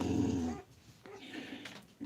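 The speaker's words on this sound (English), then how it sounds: "did you hear her growl?" A defensive mother dog guarding her newborn puppies gives a low, rumbling growl in the first half-second, close and fairly loud, then the sound drops to quieter rustling and faint background noise.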